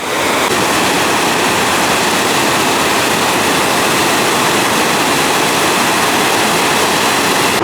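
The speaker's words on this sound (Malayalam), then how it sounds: "അതുവഴി ചെറുതായിട്ട് കനാലിലോട്ട് വെള്ളം ഒഴുകുന്ന പാതയാണ് ഇത്" Water rushing from a valve at Neyyar Dam into a canal makes a loud, steady roar with broadband hiss throughout, unbroken and close, with no voices.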